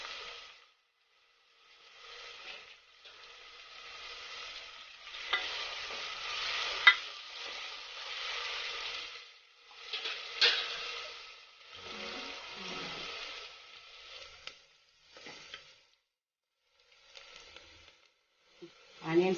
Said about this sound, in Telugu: ఆనియన్స్ వేగినాయి